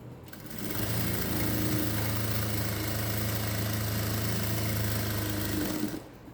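A sewing machine runs a double stitch along the seam of a cigarette-style pant with pocket, holding a steady, even mechanical whir for several seconds with no voices.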